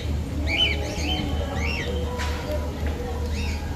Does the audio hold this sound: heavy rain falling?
no